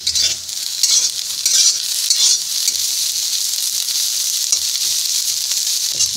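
Neem leaves crackle and sizzle steadily in hot oil on a low flame, frying until crisp, with occasional stirring scrapes over a constant bright hiss and no voices.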